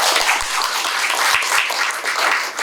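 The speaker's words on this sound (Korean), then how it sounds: "다시 한번 박수 부탁드립니다" Seminar audience at a National Assembly Library colloquium on AI legislation giving a round of applause, loud close clapping from a modest crowd with a few sharp individual claps standing out.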